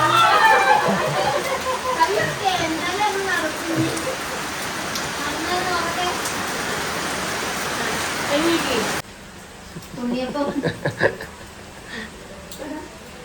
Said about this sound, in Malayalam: അപ്പോൾ ഏതായാലും മഴ ഉഷാറായിട്ട് പെയ്യുന്നുണ്ട്